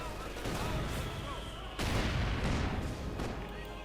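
Mortar and artillery fire in the strategy game Company of Heroes 2 during a one-on-one match, a dense continuous barrage of explosions and gunfire with a heavier boom partway through, sustained and loud throughout.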